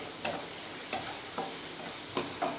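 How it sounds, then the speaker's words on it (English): Spinach masala with tomato ketchup frying and being stirred, with a steady sizzle and regular scrapes of a spoon against the pan, about five strokes in a row. "Fry the masala very well."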